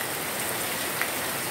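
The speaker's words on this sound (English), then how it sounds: "So it's continually raining" Heavy, steady rain pours down in the Finschafen District of Papua New Guinea, a dense continuous hiss of drops on surfaces with no breaks, fairly loud and close, with no voices.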